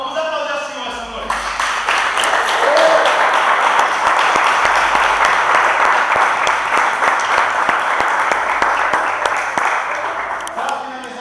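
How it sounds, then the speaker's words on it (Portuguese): A church congregation in a Portuguese-speaking evangelical service claps together, the applause swelling in after a brief quieter start, holding loud and dense, then tapering near the end. "Vamos aplaudir o Senhor essa noite."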